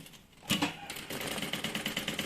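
A sewing machine stitches a trapeze-shaped bag: a soft thump, then a short burst of rapid, even needle chatter, fairly faint and close.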